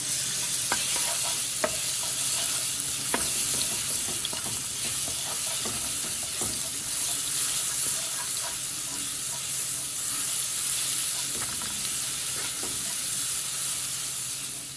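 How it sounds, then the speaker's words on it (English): Ground garlic frying in a pan, cooked for a curried goat dish, crackles with a steady close sizzle and occasional stirring scrapes, no talking. "So I'm going to add some ground garlic. Fry that up with that."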